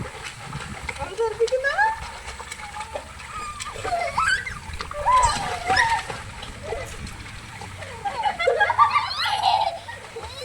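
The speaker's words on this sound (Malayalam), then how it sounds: "കുറേ സമയം വെള്ളത്തിൽ നിന്നൊക്കെ കളിച്ചു." Water splashes again and again as people swim and play in a pond, with laughter and lively chatter mixed in and bursts of splatter rising and falling throughout.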